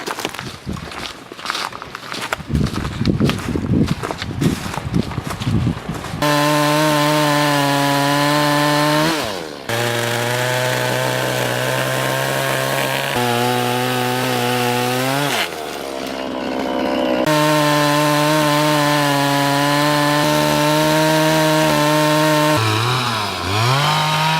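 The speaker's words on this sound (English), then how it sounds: "we'll bring the chainsaw through and just cut a few of these little branches up" A chainsaw revs loudly and steadily, its pitch dipping as it bites into small branches, broken by brief pauses and a rough, rattling start.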